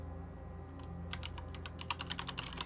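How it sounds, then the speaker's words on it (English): Typing on a computer keyboard in the video game Vampire: The Masquerade - Bloodlines, a quick run of crisp key clicks that starts sparse and speeds up, quiet over a low ambient hum. "Typing is hard."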